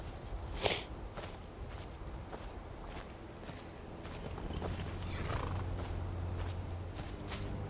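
Faint horse hooves plodding in the video game Skyrim amid soft, diffuse background noise, with a brief sharp snort near the start.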